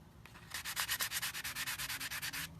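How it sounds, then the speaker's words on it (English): Vintage sanding block rubbed against the edge of a pressed copper penny, giving a fast, steady run of about twenty rasping strokes, close and moderately loud, with no voices. "It's a vintage sanding block and I just rub it a little bit and smooth it out."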